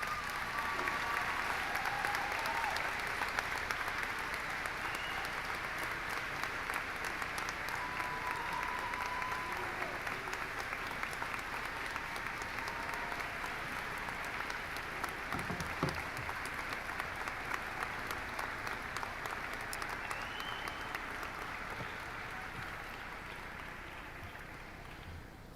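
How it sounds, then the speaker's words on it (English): Sustained applause from a high school graduation ceremony audience fills the hall, a steady dense wash of clapping that slowly fades toward the end, with faint voices mixed in. "Let's give them a round of applause."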